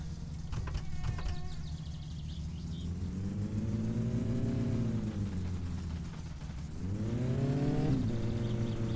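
Car engine in My Summer Car revving up and down in long sweeping pitch rises and falls, steady and loud throughout with no talk, a harsh buzzing drone under the revs.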